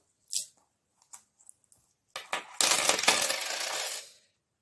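Cash is handled while budget envelopes are filled, with a few light taps and rustles at first, then a closer, steady burst of shuffling and crinkling paper for about two seconds.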